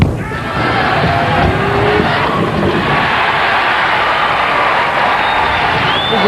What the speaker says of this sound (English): Wichita State alums are cheering.